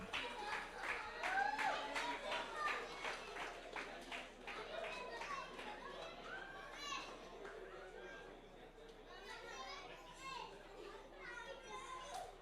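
An award ceremony at an under-19 cricket classic: scattered clapping rises with lively children's chatter and voices, staying fairly loud and busy before thinning out.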